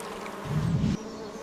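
A low, steady insect-like buzz rises from the ground for about half a second, droning close and fairly loud over a soft background hiss before it cuts off abruptly. No one speaks.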